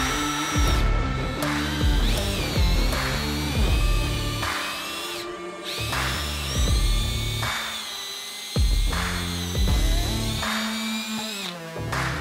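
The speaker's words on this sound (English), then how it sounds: "So I'm gonna pre-drill the hole where the screw is gonna be inserted." A power drill whirs in repeated short bursts, its pitch rising and falling as it pre-drills a screw hole in a wood log, with brief pauses between each run.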